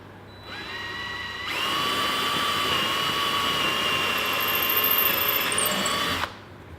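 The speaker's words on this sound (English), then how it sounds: "So you can go ahead and drill these straight through." A power drill bores straight through a wooden board for a simple coat rack, a steady high whine running for several seconds at close range before cutting off abruptly.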